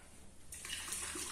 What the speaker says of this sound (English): There is a big beaker. I'm going to add to it some tap water.